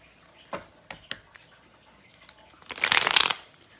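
Tarot cards being shuffled for a reading: a few light taps and flicks of the deck, then a brief, close riffle of cards at moderate volume.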